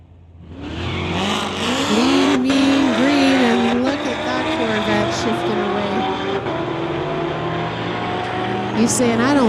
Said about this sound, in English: John Cussman, the 2016 Corvette called White Cocoa, going against Dale Wood from Mission in his 72 Nova.